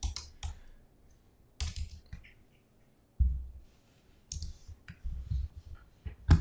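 Typing on a computer keyboard into a search box, with irregular bursts of clicking keystrokes separated by pauses, fairly close and moderately loud, with no talk.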